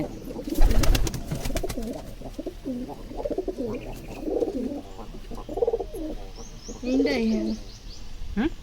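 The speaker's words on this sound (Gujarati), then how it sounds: "મસ્ત મજાના એવા નાના સફેદ કબૂતરા છે" Small white and black pigeons coo repeatedly nearby in soft, throaty warbles, with a few chirps and a brief clatter early on.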